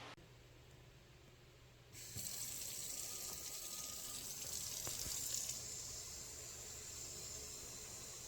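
Cold water runs from a tap to rinse sprouts, a quiet steady hiss that starts softly and then grows stronger, spraying evenly with a few small clicks.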